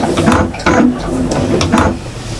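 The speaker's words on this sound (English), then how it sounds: "I'm stitching about 1/8 inch in" A sewing machine runs in bursts, stitching about 1/8 inch in from the edge of a fabric shopper bag, with a steady mechanical chatter and brief pauses between runs.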